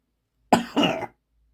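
A single short, raspy cough in two quick pushes, close up, with silence before and after.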